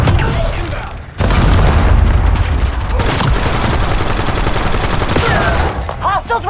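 Frag grenade explosions and rapid gunfire in the video game Destiny 2 form a dense, loud, continuous barrage of booms and shots, with a short lull near the start and game voice callouts mixed in.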